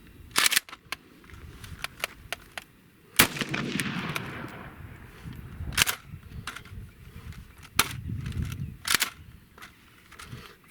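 AK rifle being fired during a tap-rack-bang malfunction drill at an outdoor range. Sharp, loud single shots ring out at irregular intervals, with metallic handling clatter and faint background noise between them.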